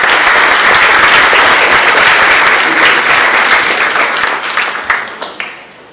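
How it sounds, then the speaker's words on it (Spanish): An audience at an evening lecture on IFRS accounting applauding loudly and steadily, the clapping thinning out to a few last scattered claps before fading. "pido un caluroso aplauso de bienvenida"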